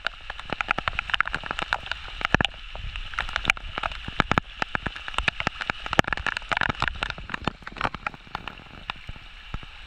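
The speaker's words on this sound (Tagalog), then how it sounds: "Malakas ng ulan." Heavy rain pours steadily over a flooded spot where fish traps are being checked, a dense patter of close, sharp drops and splashes running throughout with no speech.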